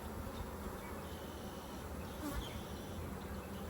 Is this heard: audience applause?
no